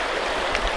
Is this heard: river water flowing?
yes